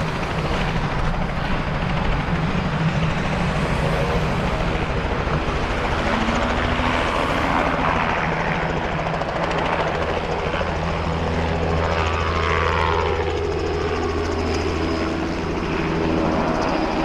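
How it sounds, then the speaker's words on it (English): A helicopter drones loudly and continuously overhead, its rotor thrum and engine whine shifting slightly as it passes, with no voices. "you can hear there's a helicopter going up now"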